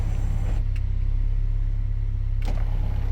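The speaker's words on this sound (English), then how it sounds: "So this one here is the sunroof." Electric sunroof on a 1985.5 Porsche 944 running inside the cabin, a steady low motor hum with faint mechanical clicks at start and stop, heard alone without talk.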